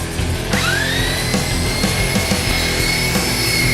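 A turned piece spins on a lathe while 120 grit sandpaper is held against it, giving a steady motor whine with a continuous rubbing hiss for a few seconds and no talking.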